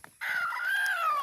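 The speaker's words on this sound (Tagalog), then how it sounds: "namin itong hinanap kasi nawawala yung inahin. So yung pala naglilimlim na sa damo dito" A mother hen brooding on eggs in the grass lets out a single close, loud drawn-out squawking call, clear and alone.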